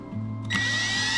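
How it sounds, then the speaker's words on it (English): A power drill whirs steadily, its motor pitch rising briefly midway as it drives a screw into a pilot hole in a wooden box; close and fairly loud, no talking. "And then we'll be able to put the screws in."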